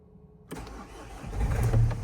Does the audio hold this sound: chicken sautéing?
no